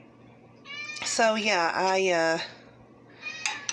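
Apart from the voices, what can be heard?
kitten Buttercup meowing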